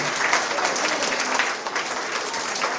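An audience at a summer celebration event on palm-leaf craft claps to welcome a speaker, a dense lively applause of many hands with slight swells and no voices over it.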